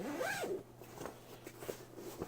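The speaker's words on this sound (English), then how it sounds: "It zips up." Zipper on a cheap padded case for a 15.6-inch laptop being zipped shut: a quick rising zip followed by a few shorter rasping pulls and ticks, close and fairly quiet.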